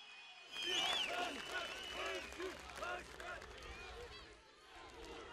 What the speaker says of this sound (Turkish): Hepsini yürekten alkışlıyoruz.